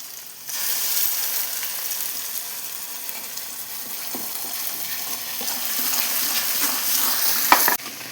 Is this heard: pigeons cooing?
no